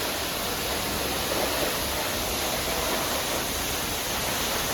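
Waterfall at Amarkantak rushing in a steady, dense broadband roar that fills the whole stretch without a break, close and constant with no voices over it.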